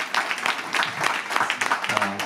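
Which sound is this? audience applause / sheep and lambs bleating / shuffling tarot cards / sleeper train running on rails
audience applause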